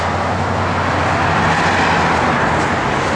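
A 1965 Chevrolet Chevelle 300 with a 4-speed runs steadily, giving a loud, continuous broadband engine drone with no talk over it.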